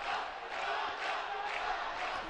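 A boxing crowd roars and shouts in support of Mexican middleweight Juan Mercado at the 2011 AIBA World championships, a continuous, distant-sounding wall of cheering that surges in waves.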